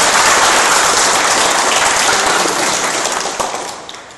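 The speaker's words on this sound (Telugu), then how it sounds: "ఆయన కూడా ఒకసారి చప్పట్లు కొడితే" An audience at a comedy event bursts into loud, dense applause that holds steady, then thins and fades toward the end, with a few scattered claps left.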